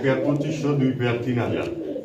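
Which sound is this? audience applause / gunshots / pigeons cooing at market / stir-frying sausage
pigeons cooing at market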